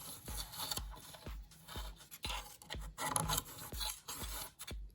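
A tool scrapes dried buildup out of a polished agate cabochon in a lapidary workshop, giving a steady run of rhythmic rasping strokes about twice a second, each one with a low thump, close and without talk.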